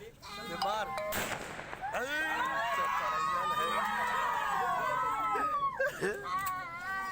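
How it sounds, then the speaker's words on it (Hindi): Bursts of celebratory gunfire ring out at an outdoor election victory celebration, loud and repeated over a noisy, cheering crowd with voices shouting throughout. "देखिए, जीत का जश्न फायरिंग कर मनाया जा रहा है।"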